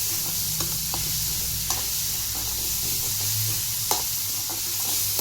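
Green turkey berries stir-fried in hot oil, a steady close sizzle with scattered soft stirring scrapes and clicks of a utensil against the pan, with no talking.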